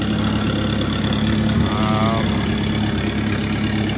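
A Volkswagen 1.8 turbo engine idles steadily just after a cold start, a fresh build with new belts and pulleys; the low, even rumble runs close and loud throughout, with a brief higher whine near the middle.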